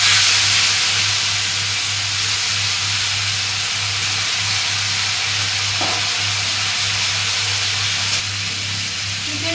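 Chicken sizzles as it fries in a pan with whole garam masala of cloves, cardamom and cinnamon, giving a steady, close hiss with a faint stir partway through and no voices.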